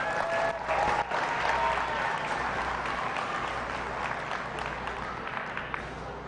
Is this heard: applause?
yes